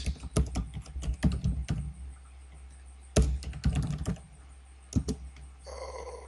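Clicky keystrokes on a computer keyboard while typing in Microsoft Word, coming in quick bursts with pauses between them, close and moderately loud over a steady low hum.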